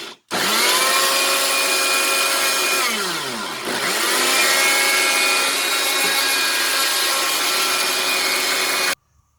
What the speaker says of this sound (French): Il est temps de passer tous les ingrédients au mixeur.